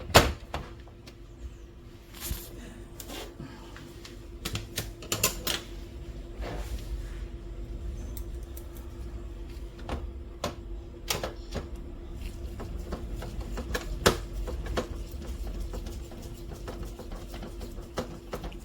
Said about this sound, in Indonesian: Kita baut dulu bagian belakang ya. Bagian sini kita baut dulu.